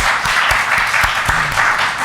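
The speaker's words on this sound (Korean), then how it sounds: "우리 박수하겠습니다." A small church congregation claps to welcome a visiting member, a short burst of scattered, uneven hand claps indoors, moderately loud, with a brief murmur of voice mixed in.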